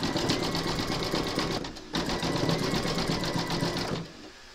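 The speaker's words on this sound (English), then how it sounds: "pop your hoop into your machine and stitch round number 6" An embroidery machine stitches a zigzag applique round, its rapid needle rhythm running steady and close, with a brief pause near two seconds and dropping away at the end.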